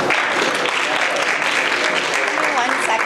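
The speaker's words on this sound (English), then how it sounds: "So please give a big round of applause for Ms. Morgan Altman." An audience at a New York City charter school event breaks into sustained applause, a dense, even clatter of many hands lasting the whole stretch, with some voices beneath it.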